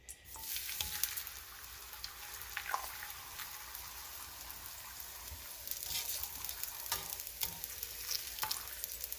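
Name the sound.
tortillas frying in oil in a pan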